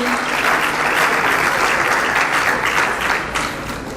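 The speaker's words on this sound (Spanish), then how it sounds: "un fuerte aplauso al Rey" A church workers' meeting in Guatemala breaks into loud applause honoring a leader, with dense sustained clapping from a large audience that fades slightly near the end.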